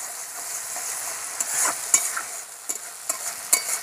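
Ground cumin, black pepper and coriander paste is stir-fried in a pan, a close, steady sizzle broken by several sharp scraping and stirring clatters of the spoon, with no speech.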